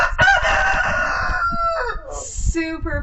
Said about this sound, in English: He's grown into such a big, confident rooster.